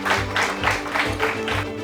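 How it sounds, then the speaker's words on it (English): An audience claps to welcome an author onto the stage at a book event, with a voice speaking over the applause in short bursts throughout. "Round of applause for him."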